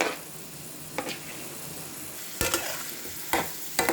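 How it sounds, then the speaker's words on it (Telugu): Onions hiss as they hit hot oil in a pan, a steady moderate sizzle broken by a few sharp clinks and stirring knocks, close and without voices. "ఇప్పుడైతే మనకి ప్యాన్లో ఆయిల్ అయితే హీట్ అవుతుందండి. ఇందులో మనం ఆనియన్స్ యాడ్ చేసుకోవాలి."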